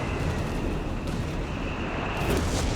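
A Bishop self-propelled artillery piece firing in Company of Heroes 3, heard as a continuous heavy rumble of distant artillery and explosions with a couple of sharper thumps, steady and without clear breaks.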